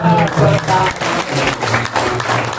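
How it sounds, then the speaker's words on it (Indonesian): Audience applause at an Indonesian business home-sharing gathering, a short dense burst of clapping under and alongside talking voices, loud and close. "Jadi tepuk tangan"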